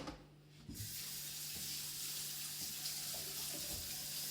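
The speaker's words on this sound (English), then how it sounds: "Put them into your strainer, like so, and then give them a rinse." A tap starts, and water runs steadily through a strainer of rinsing blueberries, a close continuous rush with faint knocks underneath.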